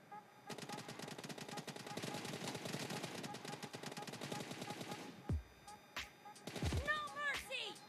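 Rapid automatic gunfire from the mobile game PUBG, played on a Redmi Note 8 Pro phone, rattling in a long dense burst, followed by a few scattered shots and game effects.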